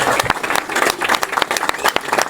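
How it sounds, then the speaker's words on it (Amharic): An audience claps steadily and densely throughout, a close, continuous patter of many hands with a few sharper claps standing out. "አጨብጭቡልኝ በእናታችሁ"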